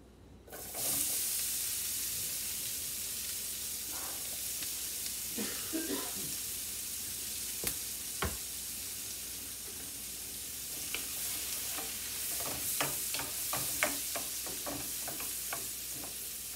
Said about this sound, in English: Let's put the onions